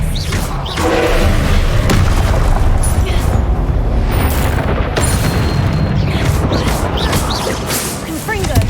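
Confringo spell explosions boom in Hogwarts Legacy, heavy rumbling blasts and thuds running loud and continuous for several seconds, mixed with spell effects and spoken voice.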